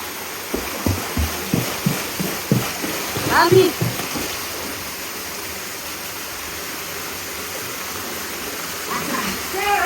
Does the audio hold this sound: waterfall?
yes